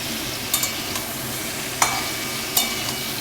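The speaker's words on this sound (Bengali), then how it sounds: "এবারে আমি পটল আলুটা বারে বারে নেড়ে নেড়ে দেখব" Pointed gourd and potato cook in a pan under a soft, continuous sizzle, with a few sharp spatula scrapes and knocks as the vegetables are stirred.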